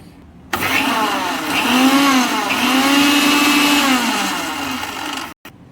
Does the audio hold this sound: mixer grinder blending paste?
yes